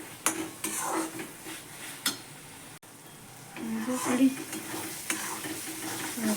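A village-style curry of whole green garlic fries on low heat in a pan, a soft continuous sizzle under occasional spoon scrapes and clinks against the metal, louder and busier toward the end.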